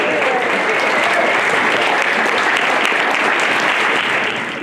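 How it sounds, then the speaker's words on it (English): A crowd at a memorial celebration breaks into loud, sustained applause and cheering for a toast, a dense steady wash of clapping that fades slightly at the end. "So another cheer for Kirby"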